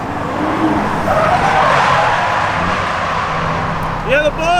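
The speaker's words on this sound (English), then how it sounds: "So this is my first time out drifting" A car drifts at a Japanese spring matsuri drift event, its tires skidding and squealing loudly over a roaring engine for several seconds, followed by a couple of sharper squeals near the end.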